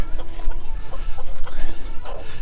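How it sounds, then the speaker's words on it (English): A rooster clucks in short, rhythmic bursts after finding food, the calls close and loud among rustling and background farm noise, no speech. "doing his clucking because he found the food"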